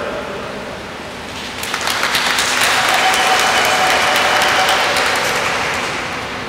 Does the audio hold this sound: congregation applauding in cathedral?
yes